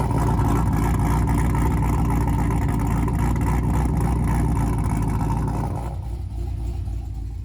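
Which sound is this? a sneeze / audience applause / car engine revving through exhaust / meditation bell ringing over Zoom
car engine revving through exhaust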